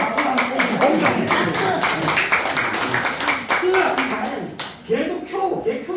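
An audience at a Korean lecture claps in a brisk burst of many hands that fades after a few seconds. A speaker's voice runs under and after the clapping.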